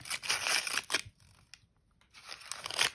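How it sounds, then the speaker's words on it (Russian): A plastic packet of Zavry collectible toys from the Pyaterochka store is torn open, with close, crisp ripping and crinkling in two bursts separated by a brief quiet pause. "Открываем пакетик."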